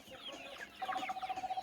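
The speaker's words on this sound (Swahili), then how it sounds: "Hizi ni kuku improved kienyeji za kike na za kiume pamoja." A mixed flock of improved kienyeji hens and roosters clucks softly during feeding, ending in a quick run of rhythmic, pulsing clucks, brief and fairly faint.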